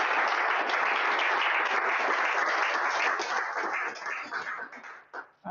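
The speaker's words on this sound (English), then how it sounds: "give him another round of applause" An audience at a vision health startup incubator demo day gives a full round of applause, a steady crowd clapping that stays strong and then thins and tapers off toward the end.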